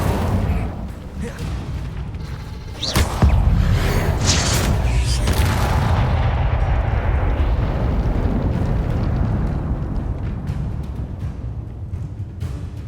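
An Incendio fire spell cast in Hogwarts Legacy bursts out as a loud whooshing roar, then settles into a sustained rumbling burn that slowly fades, with a voice calling out over it.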